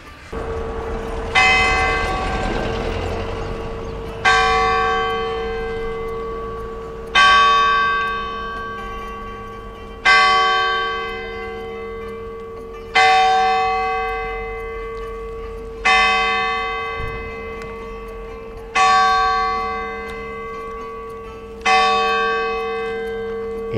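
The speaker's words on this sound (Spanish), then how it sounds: "Estamos oyendo las campanas de la iglesia de San Juan cuando son las 9 de la mañana" Church bells of San Juan church in the historic centre of Telde, Gran Canaria, ringing at nine in the morning: eight evenly spaced loud strikes about three seconds apart, each ringing out and decaying over a steady low hum.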